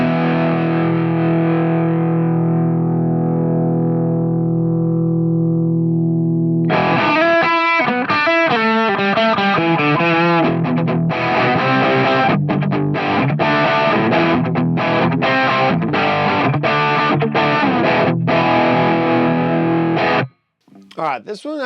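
An electric guitar is played through a PV5150 amp model on a Headrush unit. A long sustained distorted chord decays first, then a run of tight, chugging high-gain riffs with rapid palm-muted hits follows, loud and close, ending in a brief pause.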